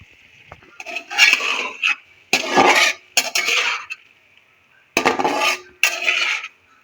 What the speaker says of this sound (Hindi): सारी चीज़ों को मिक्स करेंगे